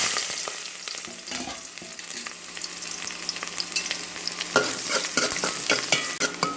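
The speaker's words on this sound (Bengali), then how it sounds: "পেঁয়াজ কুচিগুলোকে আমি নেড়ে চেড়ে ভেজে নিব" Chopped onions fry in hot mustard oil in a pan, a loud, constant sizzle with repeated spatula scrapes and clinks as they are stirred. A sharper burst of frying partway through, no talking.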